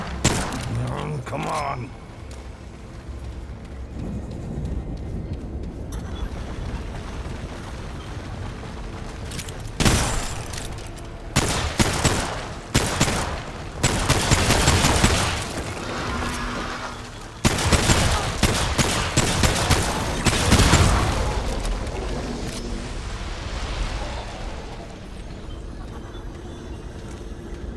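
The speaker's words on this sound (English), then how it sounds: "Used a lot of bullets on that rock." Rapid bursts of gunfire from the video game Remnant 2, aimed at a rock, crackle loud and dense in clusters across the stretch, with a player's voice breaking in now and then between volleys.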